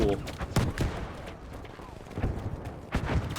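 Repeated booming shotgun blasts from the video game Battlefield V ring out in irregular bursts, loud and punchy, with game noise filling the gaps.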